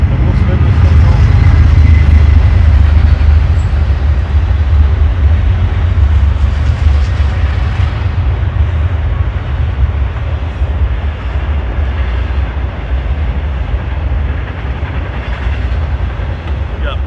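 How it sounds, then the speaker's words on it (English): A freight train rumbles past nearby, a loud low roar with rail clatter that stays strong for the whole stretch, easing slightly toward the end. "here comes the freight train"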